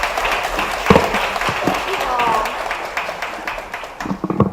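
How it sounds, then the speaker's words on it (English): Applause from an audience greets a U.S. senator arriving to speak, a steady wash of clapping that runs throughout and thins toward the end, with talking over it. "let me ask all of us to give a big round of applause to welcome Senator"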